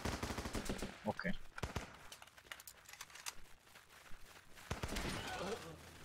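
Gunfire from shotguns and machine guns in the Running With Rifles video game, snowy map: sharp bursts of shots and rapid firing scattered across the scene, mixed with a player's talk and exclamations.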